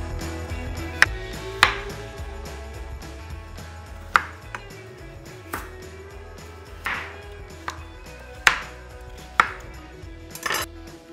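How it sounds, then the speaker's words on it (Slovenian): Carrots and other vegetables are chopped into large pieces on a cutting board, about a dozen sharp, irregular knife strikes, close and clear, with no talking. "Zelenjavo operemo, potem pa še narežemo na večje kose."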